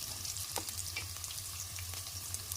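Onion frying in a pan with oil for fried rice, a steady close sizzle with a few light stirring scrapes and a low hum underneath.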